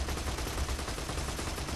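Gunfire in the video game Borderlands 2, a dense, continuous burst of loud shots with no gaps, heavy and close.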